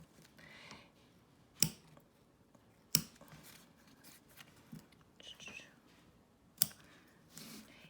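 A few sharp, crisp snips of scissors trimming machine embroidery material in a hoop ring out at irregular intervals over a quiet background with faint rustling.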